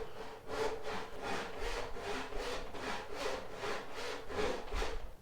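Steady back-and-forth rasping of a hand saw cutting through wood, about nine even strokes, close and alone.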